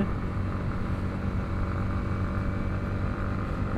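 A motorcycle rides along a road winding between hills, its engine giving a steady, continuous drone close by, with no talk over it.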